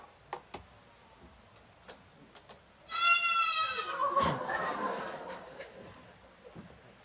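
A baby goat that looks like a lamb bleats once, a loud, wavering cry lasting a few seconds and then trailing off, with faint ticks and quiet room noise before and after.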